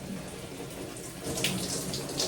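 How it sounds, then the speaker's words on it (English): Running tap water splashes steadily as hair is rinsed under it, close and fairly loud for a couple of seconds with no speech. "let's rinse off the hair"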